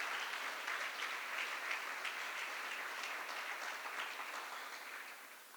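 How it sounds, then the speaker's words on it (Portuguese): A church congregation claps in sustained, steady applause throughout, fairly distant and even, tapering slightly at the end with no talking over it. "Isso merece uma salva de palmas, uma glorificação a Deus."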